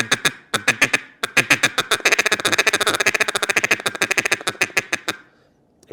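A rapid run of short, clipped duck-call chuckles, loud and close, starting as spaced bursts then rolling into a fast, continuous chatter before stopping.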